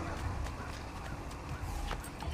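A horse in the video game Assassin's Creed 2 trots with soft clip-clop hoofbeats under a dense, steady game ambience, moderately near and fairly quiet.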